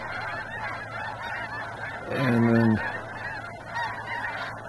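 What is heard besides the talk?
snow geese honking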